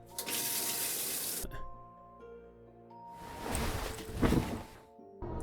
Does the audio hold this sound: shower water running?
yes